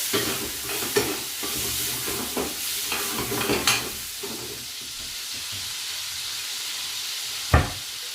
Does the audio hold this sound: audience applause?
no